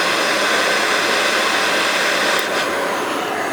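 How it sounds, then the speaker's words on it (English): A butane torch flame roars in a steady, loud, close hiss as it heats a dot for gem cutting, and the sound continues without a break. "This is a butane torch, so, and I get my needleless pliers. And just quickly heat the dot."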